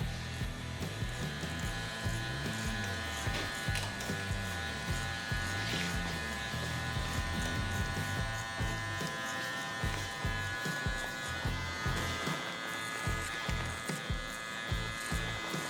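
Electric hair clippers buzz steadily and close up as a barber cuts the first guideline into a man's curly hair, the motor hum continuous and unbroken by talk.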